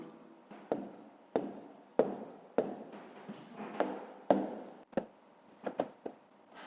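A pen writes out a long-division sum on paper, close-up taps and short scratchy strokes in an irregular series of about a dozen marks, each with a sharp start and quick fade, on a quiet background.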